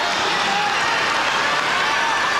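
A large tennis crowd at the Australian Open quarterfinal claps and cheers in a steady, dense roar that fills the whole moment.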